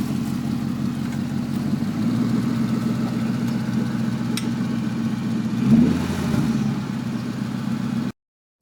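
A 1962 Ford F100 Flareside truck engine, set on a CVPI frame, runs at a steady rumbling idle up close, with a brief rev partway through, then cuts off abruptly.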